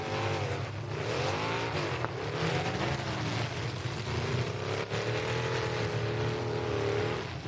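A race car engine at an Urban Destruction event held on the throttle, loud and sustained, its pitch swooping up and down as it revs and sings without a break.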